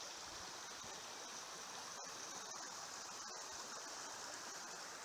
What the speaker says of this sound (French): La cascade coule maintenant vers ton plexus solaire.